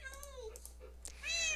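Cats meowing in the video game Minecraft, several short overlapping meows at low level, one after another, with a louder meow at the end.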